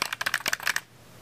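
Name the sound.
typing on a computer keyboard at a desk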